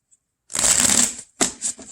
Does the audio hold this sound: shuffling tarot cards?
yes